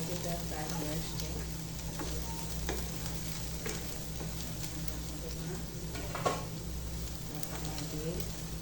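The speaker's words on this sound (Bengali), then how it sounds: "ঢাকনাটা তুলে নেড়ে করে নিচ্ছি।" Malabar spinach fruit stir-fry, nearly done, sizzling steadily in a pan as a spatula stirs and scrapes, with occasional clinks and one sharper knock, close and even over a low hum.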